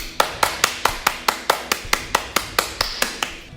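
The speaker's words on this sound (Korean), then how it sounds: "하나님 아버지께 감사의 박수를 올려드립시다." Sharp hand claps in a steady, even rhythm, about fourteen in a row, close and crisp with nothing else in between, during a church service.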